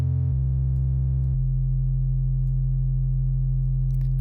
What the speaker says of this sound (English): We are hearing two distinct pitches in this signal.